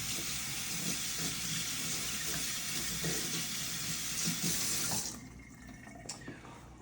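Running tap water rinsing out a dough bowl, a steady close splashing stream that cuts off abruptly, followed by a few faint clinks.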